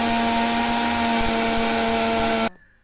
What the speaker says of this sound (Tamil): இப்போ நல்லா மிக்சியில் அரைச்சிக்கலாங்க.